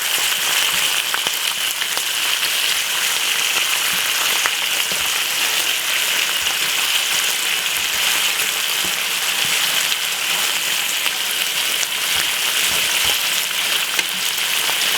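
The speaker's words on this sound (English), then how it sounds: "So you see the bacon frying so nice." Bacon sizzles steadily in a pan, a constant crackling hiss with scattered pops, close and uninterrupted throughout.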